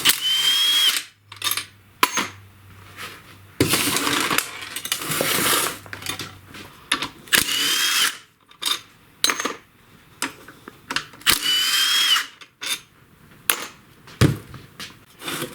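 A power tool removing head bolts from a Briggs & Stratton snowblower engine: short bursts of whirring drive alternate with metallic clinks and rattles of loose parts, plus a brief low hum early on, with no talking.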